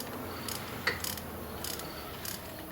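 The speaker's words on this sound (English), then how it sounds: "as we tighten up these 3 bolts, it's gonna suck everything back together" Bolts on a rear wheel hub assembly of a GM Enclave, Traverse or Acadia being tightened with a ratchet, giving a few short bursts of rapid metallic clicking separated by pauses, close and moderately loud.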